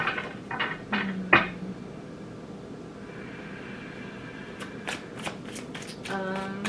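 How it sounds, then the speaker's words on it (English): A tarot deck is shuffled and cards are pulled, with close riffling bursts, a sharp tap, softer handling, then a final run of quick card flutters. "I'm going to pull a few from this tarot deck"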